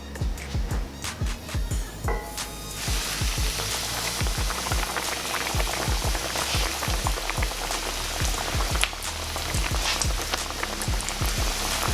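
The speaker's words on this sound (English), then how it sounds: "Be careful when you're doing this because this grease can splatter." Dense crackling and popping sizzle of chicken frying in hot grease, steady and fairly loud throughout with sharp spattering pops.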